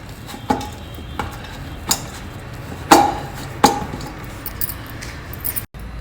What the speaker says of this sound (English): Just mix everything well till it all comes together like this.